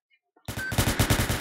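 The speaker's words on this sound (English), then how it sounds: "I thought it was wave break and then I heard gunshots" Rapid bursts of video game gunfire break out suddenly after near silence, a loud, dense stream of shots with steady rhythmic pulses, close and continuous.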